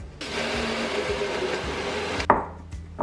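A blender whirs steadily for about two seconds, mixing a smoothie with almonds and cinnamon, then cuts off with a clunk, leaving quiet kitchen knocks; close and loud with no talking.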